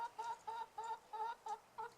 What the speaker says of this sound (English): My chickens are, all 2 of them are out here, harassing me.